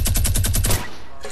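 Rapid automatic gunfire in Fortnite aimed at knocking down a tree, a fast burst of about eight punchy shots that stops abruptly after under a second, followed by quiet.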